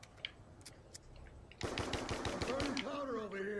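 Rapid bursts of gunfire from the Mob of the Dead zombies video game, a quiet stretch of scattered shots breaking into loud, dense automatic fire with a rising whine in the final second.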